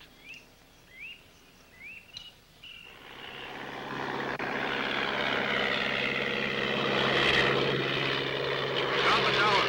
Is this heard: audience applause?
no